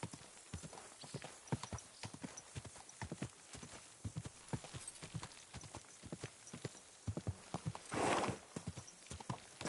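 Horse hooves clip-clop in a steady walking rhythm through a video game scene, close and clear, with a short whinny near the end and a few brief voices.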